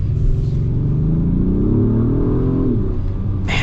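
A 2026 Acura MDX Type S accelerates hard from inside the cabin, its engine tone climbing steadily before a quick gear shift drops the pitch, loud and close, with no talking.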